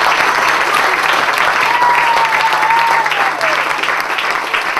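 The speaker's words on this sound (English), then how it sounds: "I think a round of applause to Mark" Wedding guests applauding, a steady dense round of clapping from a crowd lasting several seconds, fairly loud with a faint voice briefly audible underneath.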